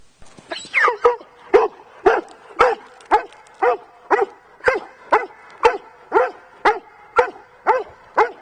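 A dog barks excitedly in a steady rhythm, roughly a dozen sharp, close, loud barks spaced about half a second apart, reacting to a thrown ball, with a few higher yips mixed in near the start.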